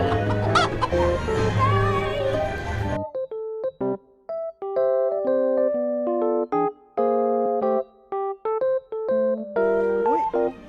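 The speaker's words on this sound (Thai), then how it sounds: "มีไก่ด้วย" Chickens cluck in short, choppy bursts. A dense noisy stretch at the start gives way to a string of clipped tonal calls with brief gaps between them.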